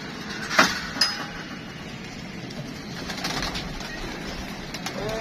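Captive pigeons coo and stir softly in a quiet setting, with a couple of sharp knocks or clinks early on and faint low cooing throughout.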